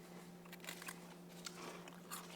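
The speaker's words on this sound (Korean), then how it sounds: "근데 되게 아삭해요. 튀김이." Crisp fried snack crunched in a few quick bites, faint and close, with small crackly chews over a steady low hum and no talking.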